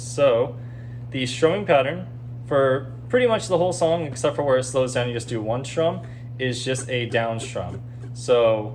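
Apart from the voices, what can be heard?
No distinct noise like a dog, phone or traffic.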